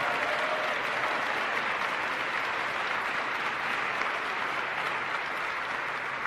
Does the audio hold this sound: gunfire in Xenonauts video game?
no